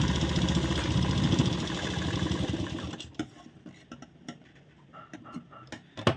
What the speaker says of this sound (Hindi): तो ये हम सीधे साइड अभी सिलाई लगा रहे हैं।